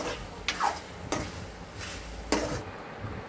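Chicken liver fry bubbling and sizzling in a pan, a low steady simmer broken by a few sharper spatters and stirring scrapes, close and moderately quiet.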